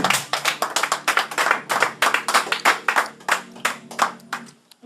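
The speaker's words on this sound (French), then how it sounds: "Sur un tonnerre d'applaudissements." Steady rhythmic clapping from a small group, close and fairly loud, trailing off at the end with no voices.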